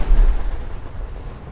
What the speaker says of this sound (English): I'm hearing a lot of gunshots.